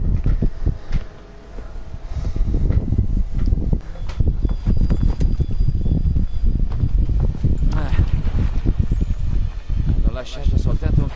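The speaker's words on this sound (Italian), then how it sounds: "Hanno lasciato soltanto un cavallo. Dovremmo montare in due." Horse hooves clip-clop in a steady, close rhythm in the video game Assassin's Creed 3 Remastered, with wind and game sounds in the background and voices speaking over them.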